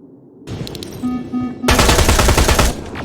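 Automatic weapons fire erupts in the Terminator: Resistance video game, loud and close, a sustained burst of rapid gunshots following a brief lead-in of electronic tones and a low hum.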